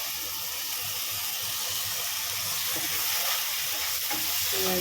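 Ginger garlic paste sizzles in oil with fried onions while crab masala is being cooked, a steady loud frying hiss with occasional stirring scrapes, close and continuous.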